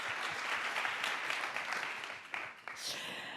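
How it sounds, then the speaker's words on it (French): Audience applause fills a French conference plenary session, a steady dense wash of many hands clapping that tapers and breaks off near the end. "On peut applaudir Aïda."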